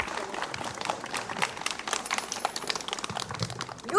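Children and teachers clap at a school's first-day-of-school ceremony on 1 September, a fairly faint, loose patter of many hands lasting a few seconds with no voices over it.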